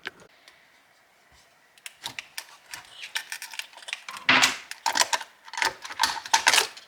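Screws being removed from a LiFePO4 pouch cell in a 12V 100Ah battery, a series of sharp close clicks and ratcheting taps that grow denser and louder after a quiet start.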